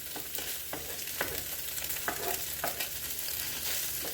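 Salmon cakes fry in hot grease in a pan, giving a steady close sizzle and crackle with scattered sharper pops and light scraping throughout.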